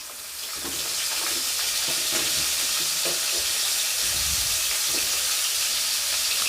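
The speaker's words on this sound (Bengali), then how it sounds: "তেলটাকে একটু গরম করার পর আমি এর মধ্যে দিয়ে দিলাম সজনা ডাঁটা" Drumsticks fry in hot mustard oil in a wok, a loud, continuous hiss of sizzling oil close by, with faint clicks and clatter underneath.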